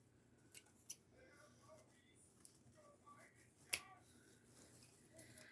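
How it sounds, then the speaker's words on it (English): Scissors snip off the loose end of a fresh bow ribbon for a Christmas wreath, giving a few sharp, quiet clicks spaced apart against a near-silent background. "I'll take the scissors and just clip off this end that's sticking out"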